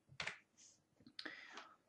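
Quiet clicks of a computer keyboard as a key is pressed to delete a line break in a Word document, a few isolated taps close by with near silence between them.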